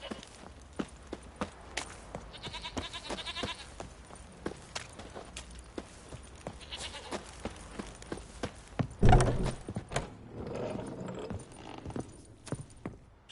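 Horses in The Witcher 3 clop about steadily with hooves tapping and gear jingling at a watering trough, one short louder thump midway, with faint ambient background throughout.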